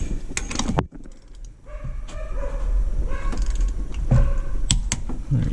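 A wrench ratchets in short clicking bursts while tightening the rear axle nut on a Yamaha WR250R motorcycle during a supermoto conversion, with metallic jangles close by and no talking.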